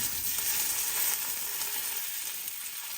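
Sea scallops sear seasoning side down in a hot pan, giving a steady, bright sizzle and crackle of frying that holds even and close throughout, with no voices over it.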